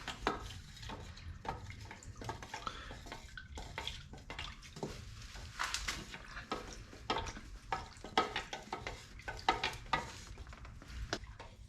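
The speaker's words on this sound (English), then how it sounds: "We'll use a paint stick." A paint stick works through a liquid mixture in a container for homemade WD-40, producing irregular sloshing and wet knocking strokes, fairly quiet and close, with no talk.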